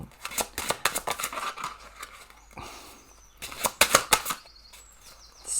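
A deck of tarot cards being shuffled by hand, heard as bursts of quick crisp riffling and papery flutters, close and fairly clear, with a short pause midway and no talking.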